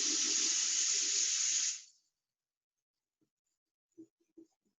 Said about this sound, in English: I don't need to run that much water